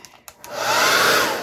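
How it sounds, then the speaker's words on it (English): A hair dryer used over wet acrylic paint during a Dutch pour clicks a few times, then switches on and rises into a steady, close, whooshing blow that holds to the end. "Got my hair dryer."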